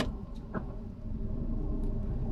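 A car engine pulling away in first gear gives a low, steady rumble close by, slightly rising in level across the short stretch with no talk.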